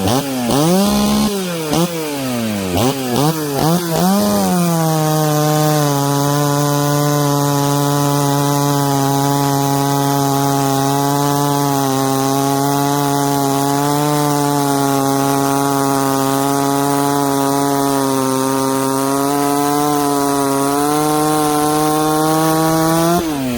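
Ported 66cc chainsaw cutting through wood: a few quick revs of the engine, then a loud, steady high-pitched whine under load that holds strong for about twenty seconds before dropping off at the end.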